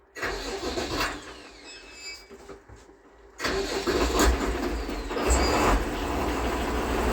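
A YTO NLX 1304 diesel tractor engine cranks briefly and goes quiet for a moment. It then catches and settles into a loud, steady rumbling idle close by.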